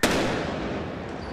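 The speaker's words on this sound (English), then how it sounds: "one of the robots cuts the line, causing this explosion" A pipe bomb goes off after a police robot cuts its line. One sharp, loud blast cracks out and a rumbling roar trails off over about a second.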